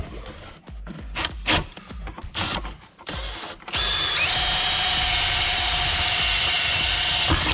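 A power drill boring fastener holes in interior trim of a 1987 Saleen: scattered clunks and handling noises, then a loud, steady, close motor whine as the bit runs continuously.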